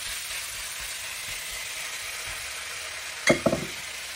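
Minced meat fries in a pan on a stove turned to its highest setting, giving a steady broadband hiss throughout, then a brief louder clatter of stirring near the end.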